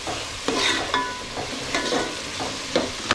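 Onions sauté in a pan over a wood-fire stove, giving a steady broadband sizzle broken by repeated scraping stirs roughly every half second, close and fairly loud with no talking.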